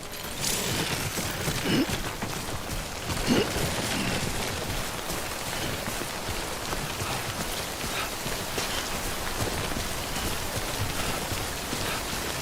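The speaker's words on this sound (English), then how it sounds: "Don't stay out in the rain any longer than you have to" Steady rainfall from timefall rain in the video game Death Stranding, a continuous dense hiss of drops on surfaces with a few brief knocks, even and fairly close throughout.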